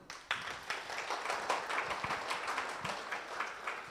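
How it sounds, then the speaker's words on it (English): A seminar audience applauds itself: after a brief quiet moment, many hands break into sustained clapping that stays full and fairly steady to the end, with scattered sharper claps standing out. "I'm going to ask that you give yourselves a round of applause."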